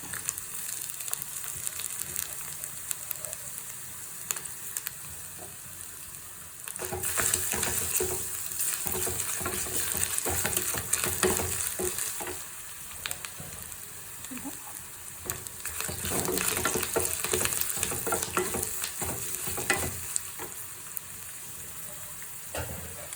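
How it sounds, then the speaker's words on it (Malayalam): Sizzling and crackling of grated coconut frying in a pan, with bursts of louder hissing as it is stirred, no talking. "ഇനി നമുക്ക് കുറച്ച് തേങ്ങ വറുത്ത്, എരിശ്ശേരിക്ക് വറുത്ത്"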